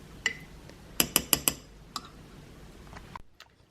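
A spoon stirs ground nutmeg into a drink in a glass or mug, giving four quick, bright clinks in a row, then a few lighter taps and a soft scrape, close by and alone.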